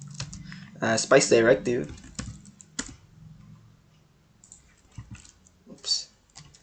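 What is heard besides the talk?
typing on a computer keyboard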